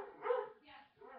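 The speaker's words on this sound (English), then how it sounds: "Sorry if you guys hear my dog downstairs." A dog barks downstairs, muffled and fairly faint, giving a couple of quick barks in succession indoors.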